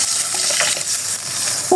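Water hits a sizzling curry in a pan, a loud, dense hiss and bubbling that holds steady for a moment, with a faint metallic clink near the end and no voices.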